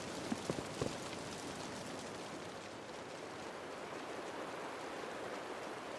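Steady rain in the video game Wuthering Waves, an even hiss of falling water held constant throughout, with a few faint knocks early on and no talk.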